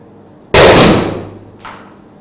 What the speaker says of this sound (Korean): 이제 폭죽이 터질 거니까요